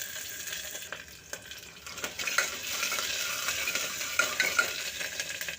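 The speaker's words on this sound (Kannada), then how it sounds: "ಈರುಳ್ಳಿ ಮತ್ತು ಕರಿಬೇವನ್ನು ಸೇರಿಸ್ಕೊಂಡು ಬಾಡಿಸ್ಕೊಳ್ಳೋಣ" Onion and curry leaves sizzling in hot oil with spluttering mustard seeds for a sprouted horse gram sambar, a steady close crackle and hiss with a few light stirring scrapes, no voices.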